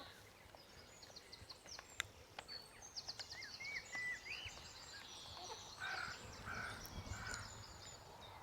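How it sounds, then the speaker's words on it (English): Many birds call at once in a garden in the early morning, with crow-like caws among chirps and song, steady and moderately near with no talking over them. "There's a great deal of bird activity in Bob's garden, as you can hear."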